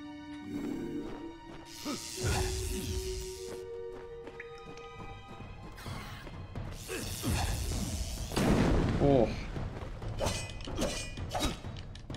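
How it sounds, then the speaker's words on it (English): Combat in the video game Kingdoms of Amalur Re-Reckoning, with thrown bombs going off: repeated crashing bursts, whooshes and thuds layered over busy game effects, with the loudest blast landing about two-thirds of the way through. "And these guys all throw bombs."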